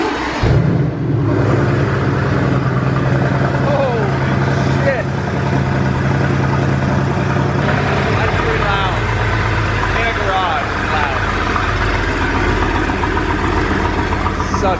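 A 2020 Mercedes AMG GTR Pro V8 starts cold with a sharp flare at the outset, then settles into a loud, steady, deep idle rumble that continues throughout and drops slightly in pitch partway.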